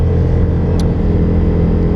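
Exhaust of a V4 muscle cruiser motorcycle, a steady deep engine drone held at constant loudness with a short higher-pitched blip partway through, close and without talk.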